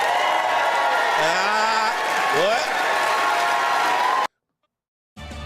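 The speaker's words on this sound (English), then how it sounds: "Why they cheering?" A large crowd cheers and applauds steadily after a vote tally for Kamala D. Harris of California is announced, a dense roar with rising whoops, joined by one nearby voice briefly talking before a sudden cut to silence.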